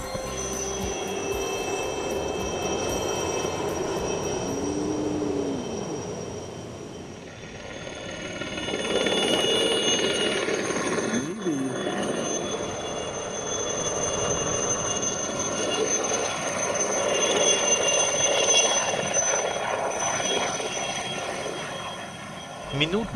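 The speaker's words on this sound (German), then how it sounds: "Plötzlich taucht am Himmel ein Hubschrauber auf." A Sri Lanka Navy helicopter's steady engine drone hangs overhead, swelling and easing slightly as it lingers nearby.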